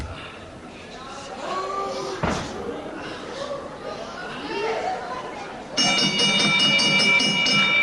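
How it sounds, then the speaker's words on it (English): A round bell rings at a boxing match, a bright metallic tone cutting in near the end over crowd noise and a commentator's talk. "And John Elijah not a bit happy to hear the bell."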